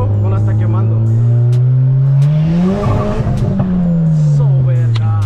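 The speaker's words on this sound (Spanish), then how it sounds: "porque está tronando. Eso es un misfire, que no está quemando gasolina" A Dodge Caliber SRT-4 running 21 psi of boost revs hard, its engine rising and falling in a loud, close drone with misfire pops and crackles near the peak of the rev.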